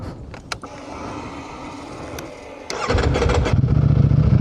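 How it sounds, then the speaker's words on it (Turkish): A Ducati Streetfighter V4S motorcycle engine idles with a few clicks, then roars louder and rougher as the throttle opens. The sound is close and loud, and no one speaks. "Gelin beraber sizinle biraz gazlayalım"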